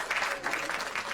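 Audience at an all-female stand-up comedy show clapping, a short burst of many hands with a quick pulsing rhythm, loud and close.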